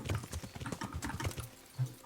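Horse hooves in the medieval role-playing game Kingdom Come: Deliverance, a quick run of muffled, evenly spaced clip-clop thuds close by, with a slightly heavier stomp near the end.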